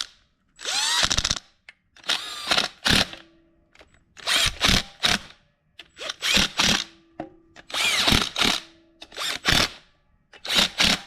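A power drill slowly snugging down bolts on a Chevrolet TH350 automatic transmission, running in about eight short separate bursts with brief pauses between them, close and fairly loud, with no talking.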